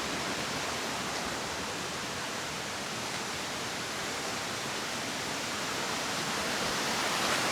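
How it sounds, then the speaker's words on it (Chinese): A mountain spring stream rushes steadily beside a rural footpath, sounding like a small waterfall: a dense, even roar of water that holds at the same loudness throughout, with no voices. "这个山泉水的声音好响啊！"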